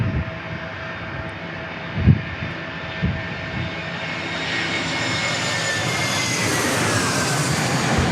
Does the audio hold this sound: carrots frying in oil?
no